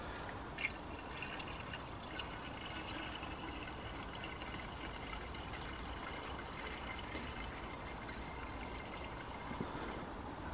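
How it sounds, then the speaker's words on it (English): Deionized water pours steadily into the coolant reservoir of a BMW E90 3 Series, a soft continuous trickle and splash at low level with faint drips throughout. "I'm going to go ahead and fill up to the max mark with the deionized water."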